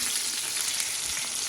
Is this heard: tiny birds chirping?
no